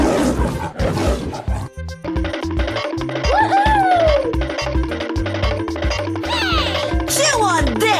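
A lion roars in a 3D animal slide video game, rough roaring swells that recur through busy game music and sound effects, with game voices mixed in.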